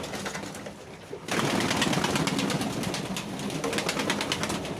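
Pigeons, some of them coloured birds, coo while being fed on a frosty -10° evening. A quieter stretch gives way to a dense, loud burst of cooing and flutter that carries on to the end.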